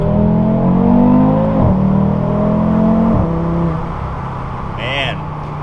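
Audi RS3 five-cylinder engine with a modified exhaust accelerating hard, its loud rising tone climbing through the revs and broken by two quick gear shifts before it settles and fades.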